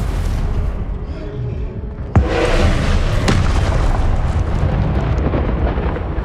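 A Confringo blasting spell goes off in the video game Hogwarts Legacy, a loud booming blast followed by a second softer thump and a long roaring rumble that carries on over continuous game noise.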